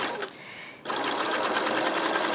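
A sewing machine zigzag stitching over cord runs with a steady fast mechanical whir and rapid rhythmic clatter, starting after a brief quieter pause and continuing evenly up close.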